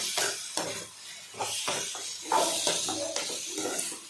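Brinjal (eggplant) sizzles and hisses in a hot pan with turmeric and masala while being stirred, with scraping strokes of a spatula repeating every second or so, close up.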